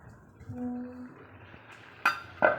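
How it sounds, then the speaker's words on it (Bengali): A lid set down on a cooking pan of fish, a faint low sizzle followed by two sharp metallic clinks close by near the end. "এটা ঢাকনা দিয়ে রেখে দিলাম"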